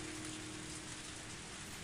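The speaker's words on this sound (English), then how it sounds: "I started running through the rain." Steady, dense rainfall in Higurashi When They Cry, a constant even hiss of heavy rain filling the whole stretch with no breaks or voices.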